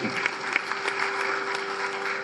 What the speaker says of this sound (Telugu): మీ అందరికీ కూడా చప్పట్లు మనమే కొట్టుకోవాలి గట్టిగా ఒకసారి